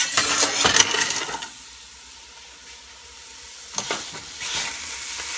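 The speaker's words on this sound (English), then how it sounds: "Hear that sizzle? Love it. Means it's at the right temperature where it can brown." Sizzling in a hot pan, with a louder burst of frying and stirring at the start, a quieter steady hiss, then more clatter near the end.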